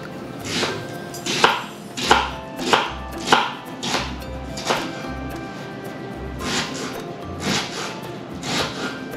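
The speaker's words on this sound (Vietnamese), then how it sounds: "băm nhỏ cái hành tây này ra" A knife chops an onion in a home kitchen, landing in quick, close, uneven bursts of sharp strikes with short pauses between runs.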